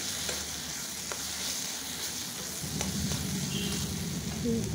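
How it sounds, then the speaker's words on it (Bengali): Cumin powder and Kashmiri chili powder are sautéed in a pan for a Bengali rohu fish and eggplant curry, giving a steady sizzle with a few spatula scrapes that grows slightly louder toward the end. "জিরের গুঁড়ো, কাশ্মীরি লঙ্কার গুঁড়ো। এটা ভালো করে কষিয়ে"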